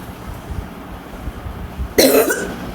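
One sharp, close cough breaks out after a couple of seconds of quiet room tone, followed by a short rasping tail.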